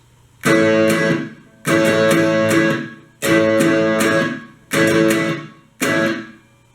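Five loud, evenly spaced strummed guitar chords, each a quick double strum that rings briefly and then cuts off abruptly into silence.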